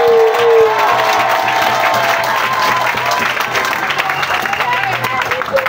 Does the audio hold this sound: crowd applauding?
yes